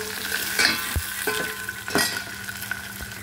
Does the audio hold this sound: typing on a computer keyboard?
no